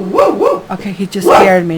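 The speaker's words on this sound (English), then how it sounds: "That's my dog probably barking at another dog through the window." A pet dog barks at another dog through a window indoors, a few sharp bow-wow barks close by, mixed in with a person talking.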